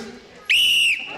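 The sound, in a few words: whistle blown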